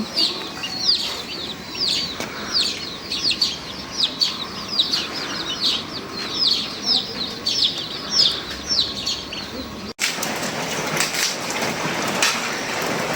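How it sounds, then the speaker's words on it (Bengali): Storm rain hisses steadily in the background while chickens cluck repeatedly nearby. The rain grows louder and fuller after a sudden cut. "বৃষ্টি তো হুম"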